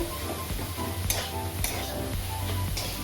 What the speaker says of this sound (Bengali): এখন আমি দিয়ে দিচ্ছি এর ভিতরে ভালো করে সবজিটা পনিরটাকে মিশিয়ে নেব